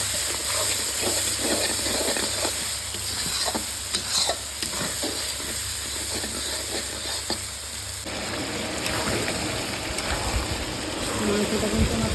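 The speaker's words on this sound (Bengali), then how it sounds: "এখন রান্না হচ্ছে মাংস।" Chicken for biryani sizzling and being stirred in a pot, a continuous close hiss of frying meat with scraping stir strokes and a brief shift in texture partway through.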